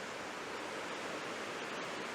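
The River Dart flows through woodland, a quiet, continuous rushing hiss of moving water at a steady level without voices.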